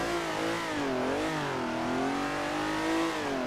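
A retro race car in Assetto Corsa, exhaust-tuned to sound like a V12, drones loud and steady with a smooth rise and dip in pitch as it revs, with no voices.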